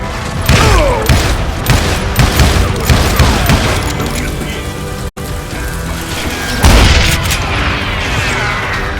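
Dense, repeated gunfire from a Western shooter video game, Call of Juarez Gunslinger, with loud close shots and booming impacts packed into a sustained barrage that briefly drops out, then surges again.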